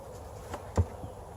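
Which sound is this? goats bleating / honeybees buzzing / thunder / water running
honeybees buzzing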